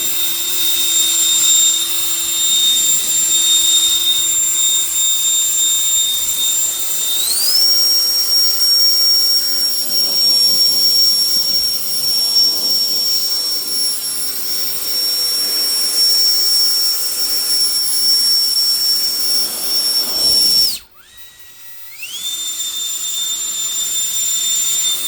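A Meguiar's floor mat cleaner machine runs on its low setting with a steady, loud whirring whine and high pitched tone, cutting out briefly near the end before starting up again.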